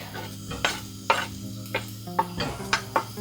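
Onions and garlic sizzle softly in coconut oil in a heavy pot, a low steady fry broken by periodic scraping strokes of a spoon against the pot.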